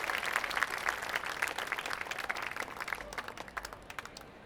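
Audience applause at a jazz festival, a dense sustained wash of clapping that thins out toward the end, heard from a moderate distance with no talk over it.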